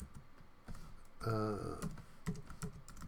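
Keys clack on a computer keyboard as a short Python program is typed, scattered taps at moderate level around a brief tonal sound in the middle.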